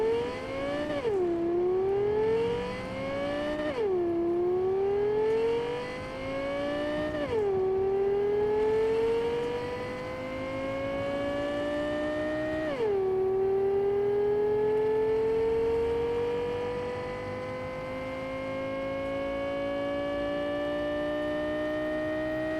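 A car in the Cyberpunk 2077 video game run at top speed down a long straight road, its engine whining upward through four gear shifts, then holding a high, steady tone as it cruises flat out.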